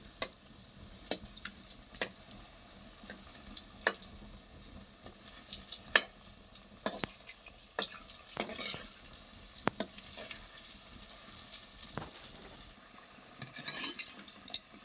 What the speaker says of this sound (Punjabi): ਹੁਣ ਆਪਾਂ ਇਹਨੂੰ ਥੋੜਾ ਥੋੜਾ ਫਰਾਈ ਕਰ ਲੈਂਦੇ ਆ